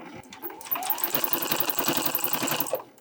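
A sewing machine stitches along the side of a striped mini tote bag, a steady rapid mechanical whir running close and continuous for most of the stretch before stopping near the end.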